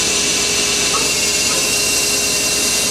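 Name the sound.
Mori Seiki Frontier L1 CNC turning center spindle spinning up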